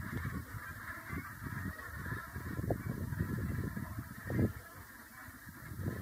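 A flock of brent geese calls continuously in autumn or winter, a dense chorus of low, rolling honks and murmurs with an occasional louder call standing out, moderately near and without voices.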